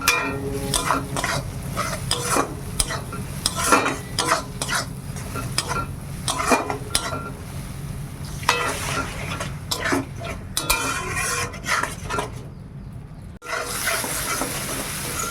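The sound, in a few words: spices frying in a pan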